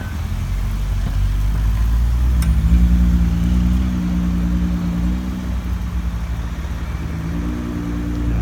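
A Nissan GT-R engine idles and revs steadily at a rally car event in Bournemouth, a loud continuous mid-pitched rumble that swells slightly partway through and holds a sustained droning tone.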